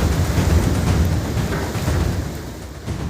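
A storm with strong winds and rain sweeps the Kandla port area in Kutch, Gujarat, as a dense, continuous roar of wind and rain whose loudness stays even and unbroken throughout.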